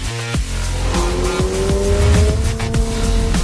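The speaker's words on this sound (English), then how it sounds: "I can put this car anywhere I want on the racetrack." A 2022 Subaru BRZ sports coupe is driven hard on a racetrack. It is loud, with the engine note sweeping up through the gears and a faint tire squeal.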